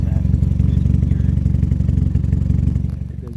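A loud 4G15 car engine idles roughly, with a steady, uneven chugging pulse that stays close and constant throughout.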